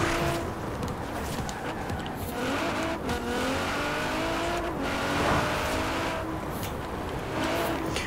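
A car drifts in Forza Horizon 4, its engine revving and wailing with long tire squeals sweeping up and down continuously and loudly throughout.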